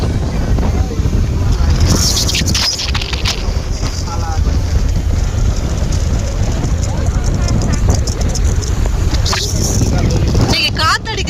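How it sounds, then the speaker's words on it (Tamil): Sea waves rolling in on a windy beach, a steady loud roar of surf with wind buffeting the microphone throughout. "அலை செம்மையா வருது பாருங்க."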